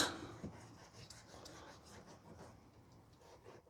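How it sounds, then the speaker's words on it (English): A damp cloth rubbing over a dusty panel on a Ford Focus Mk2 under rust repair, making soft, faint, uneven scrubbing strokes close up that fade out toward the end. "So we will moisten this cloth and just clean that off a little."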